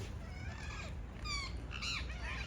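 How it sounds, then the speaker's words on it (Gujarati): Several shrill, squawking parrot calls ring out in short bursts over a low, steady background rumble, moderately distant, in the morning. "કેટલા બધા પોપટ છે."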